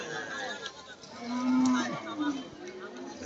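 A cow lets out a drawn-out moo near the middle, with a shorter low call after it, over a busy outdoor murmur of animals and people at a cattle market in Bangladesh.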